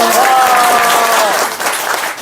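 Applause from a crowd, loud and steady, thinning slightly toward the end, with a faint tonal voice or whistle sliding over it early on.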